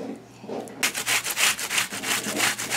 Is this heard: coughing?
no